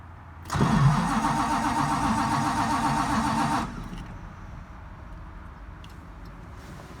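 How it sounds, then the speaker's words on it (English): A 1969 GTX car engine starts, cranking and catching into a loud, steady running roar for about three seconds before cutting off abruptly into quiet. "I turned the switch off. I'm going to switch back on."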